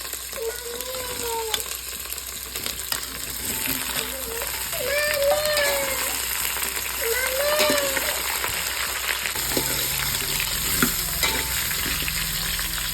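Cut bottle gourd and cucumber sizzle steadily in a pan for a Telangana-style sambar, with stirring scrapes and clinks over the frying and faint talk in the background.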